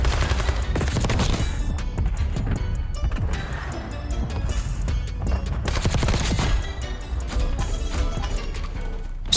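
ABR A1 rifle fire in Black Ops 6, rapid loud bursts of close gunshots with mechanical clatter, broken by a short lull near the middle.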